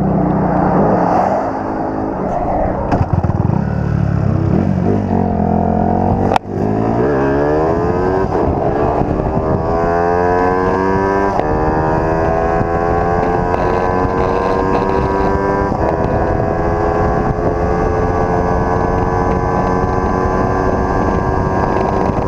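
A motorcycle accelerates hard at high speed toward 200 km/h, its engine note climbing steadily and loudly under heavy wind rush, with a brief knock partway through.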